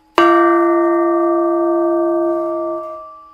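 A carbon dioxide cylinder made into a bell, with cuts in its wall, is struck once and rings out loud and clear, its bright overtones sustaining for about three seconds before fading.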